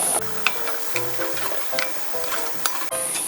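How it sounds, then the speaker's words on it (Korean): Scorched rice (nurungji) boils hard in a pot with water, making close clattering, bubbling and stirring sounds in quick irregular bursts. "누룽지가 이렇게 팔팔 끓고 있습니다."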